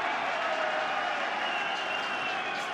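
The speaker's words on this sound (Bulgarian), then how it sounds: "Посрещнат с аплодисменти Шейх Диаманка." Crowd applause rolls through the stands at a Bulgarian football match between Hebar and Levski, a steady, dense wash of clapping and crowd noise that holds at an even level throughout.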